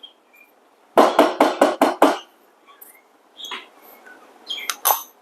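Coffee grounds are emptied from a grinder with a quick run of about six sharp knocks or taps, followed by a few fainter scrapes and clicks.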